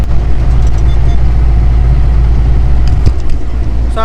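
An old gas-powered Allis-Chalmers D17 tractor engine runs close and loud, a steady heavy low drone with a brief clunk partway through and no speech.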